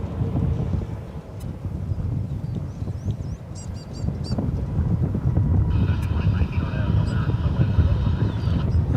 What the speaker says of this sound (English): And here goes the American flight off to LAX.